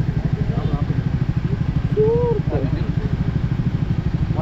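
A motorcycle engine idles on Muzhappilangad drive-in beach, a close, steady low putter pulsing evenly throughout, with a brief whistle-like tone rising over it midway.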